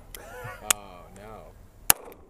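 Two sharp, loud shots from a Lionheart LH9C double-action/single-action pistol at an outdoor range after being buried in Oklahoma dirt, spaced about a second apart, with someone talking between them.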